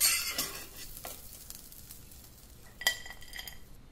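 Grated fresh coconut roasting in a pan for uttapam chutney, with a soft stirring scrape and faint sizzle, a couple of light clinks of a spoon against the metal pan near the start and again late, no talking.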